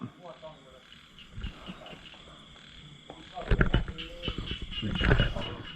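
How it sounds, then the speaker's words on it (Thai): Frogs croak in open rice paddy fields, a continuous chorus of rhythmic calls rising louder toward the end, with someone talking over it. "ตอนนี้บรรยากาศตรงหน้าครับ เสียงกบเสียงเขียด บรรยากาศ แบบทุ่งทุ่งครับ"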